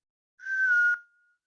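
A person whistles a single short, bright note that holds steady and then cuts off, heard alone and fairly close.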